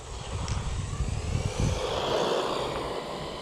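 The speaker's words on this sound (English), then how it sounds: "Just go backwards and then hit the throttle and you're into a wheelie." A Rlaarlo 4X4 RC monster truck's motor whines up hard as it accelerates into a wheelie, a rising electric buzz against outdoor wind noise, fairly close and steady.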